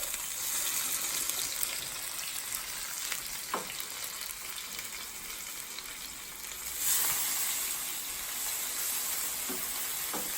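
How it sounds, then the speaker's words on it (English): Steady, close sizzling of meatballs frying in a pan, a constant hiss with occasional soft clinks and a brief swell of louder crackling. "they're frying nicely here"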